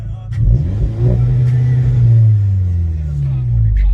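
An Audi S3 with 300 horsepower revs up under launch control, a close, deep engine note that rises and holds and then eases off, with someone talking over it.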